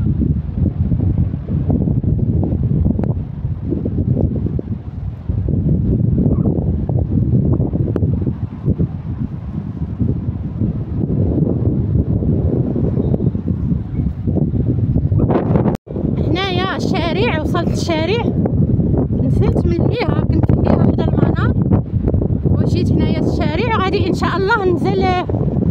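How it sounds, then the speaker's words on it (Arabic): Steady wind roars across the microphone in continuous gusts at Badouza beach in Safi, Morocco, with people talking over it in the second half. "كاين الريح هنايا"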